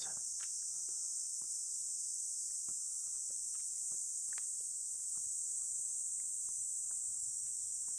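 Crickets chirp in Kanazawa, Japan, a steady, high continuous drone, joined by scattered soft taps and rustles close by.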